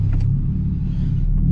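A tuned VW Up TSI Stage 4 turbo car engine holds a loud, close, low rumble for a brief moment with a slight rise, with no talk over it.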